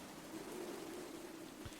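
Rain in the video game Minecraft falls as a faint, steady patter and hiss, a quiet continuous wash of drops with no voices over it.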